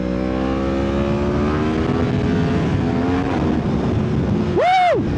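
Yamaha MT-10 SP motorcycle accelerating hard on the road, engine note climbing in rising harmonic sweeps over steady wind roar, ending in a sharp high-pitched whine that peaks and drops.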